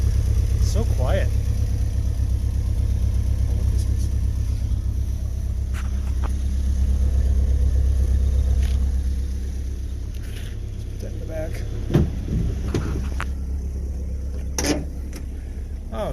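An old Willys jeep engine idles low and steady, rumbling throughout through a quiet muffler, with occasional clanks and a few brief voices over it.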